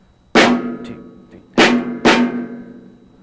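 Rhythm pattern number 10 repeats on a drum set with three strong accented hits that ring out and decay, the last two following each other quickly, plus a soft tap in between. The hits are close and loud, with no talking.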